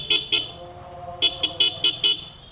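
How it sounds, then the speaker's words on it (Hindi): A vehicle horn honks in short, close, loud bursts: two quick toots, a pause, then five more in a rapid, uneven rhythm. "ऐसे मज़ा आता है हॉर्न बजाने में"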